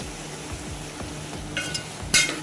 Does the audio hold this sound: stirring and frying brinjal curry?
yes